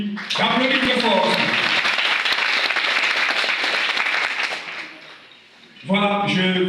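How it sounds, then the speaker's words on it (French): A hall audience claps loudly and steadily for several seconds before the applause fades out, and a voice speaks briefly before it begins and again after it ends. "que je vous prie d'applaudir très fort."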